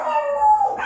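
Pet dogs howling close by in a small home patio, a sustained wavering howl that slides downward before a brief higher yip at the end.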